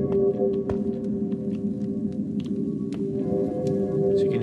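A looping magical spell ambience hums in a game demo cave, a steady droning tone with soft scattered clicks and sparkles over it, loud and continuous.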